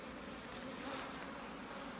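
Bees buzz at a hive in summer, a steady faint drone with no voices present.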